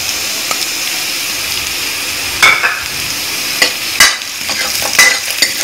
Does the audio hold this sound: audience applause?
no